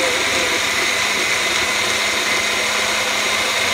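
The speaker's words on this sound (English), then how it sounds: "And then I'm gonna put it in my magic bullet" A Magic Bullet blender whirs steadily while blending a smoothie, a loud, continuous high-pitched motor drone that holds constant from start to finish.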